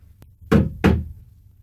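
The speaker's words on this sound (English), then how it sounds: "Dorothy walked boldly up to the door and knocked." Knocking on a farmhouse door: a faint tap, then two firm, resonant knocks in quick succession against a quiet background.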